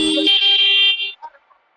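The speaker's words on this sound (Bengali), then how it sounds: "আস্তে হর্ন বাজা।" A motorbike horn gives one loud, close honk lasting just under a second, then trails off into brief faint noise.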